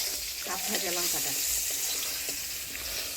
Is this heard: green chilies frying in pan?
yes